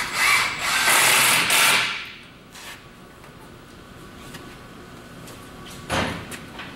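A power drill drives screws through rail into wooden 2x3 ties for a homemade mine cart track, with one loud close whirring burst of about two seconds, then near quiet and a short knock.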